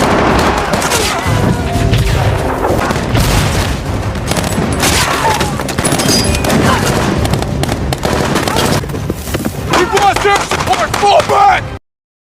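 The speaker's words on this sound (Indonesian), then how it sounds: "kembali melakukan penyerangan dengan baku tembak dengan para musuh" Dense, loud gunfire exchange from a war film, with rapid volleys, booms and explosions layered over a busy soundtrack, continuous until it cuts off abruptly.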